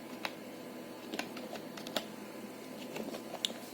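Keys tapped on a computer keyboard while entering a command on a laptop or desktop, a sparse, irregular series of light clicks close by, quiet and without speech.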